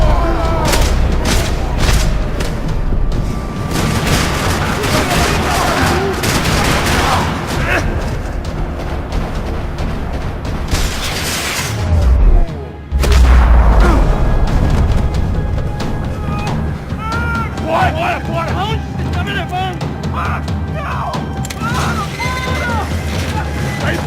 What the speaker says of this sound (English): Another parking lot rattling with gunfire.